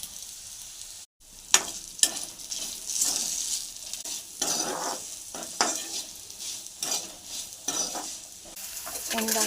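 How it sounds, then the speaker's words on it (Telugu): Chopped bitter gourd fries in a pan with turmeric and salt, a steady close sizzle broken by repeated scraping stirs of a spoon against the pan. "ఇప్పుడు 1/2 స్పూన్ అంత పసుపు వేసి సరిపడినంత ఉప్పు వేసి 5 నిమిషాలు మళ్ళీ ఫ్రై చేయాలి."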